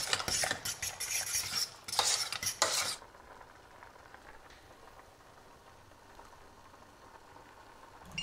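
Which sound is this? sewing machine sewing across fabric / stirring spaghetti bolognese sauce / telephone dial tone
stirring spaghetti bolognese sauce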